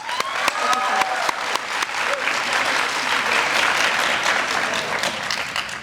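Graduation ceremony crowd applauding families, teachers and friends, starting with distinct individual claps that swell into a thick, sustained roar of many hands, loud and steady to the end.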